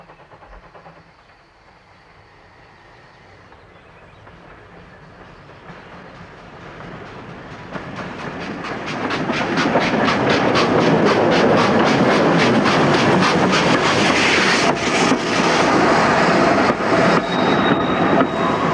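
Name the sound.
train arriving at a station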